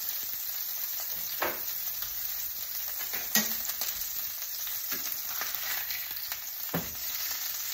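Steaks sizzling in a pan just after flipping, a steady dense crackle with occasional soft bumps and scrapes, and no voices.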